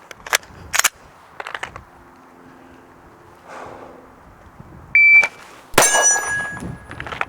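A handgun fires a few sharp shots after a quick draw from a holster, with a timer beep between, loud and close in a quiet outdoor range setting.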